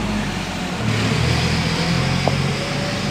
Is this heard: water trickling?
no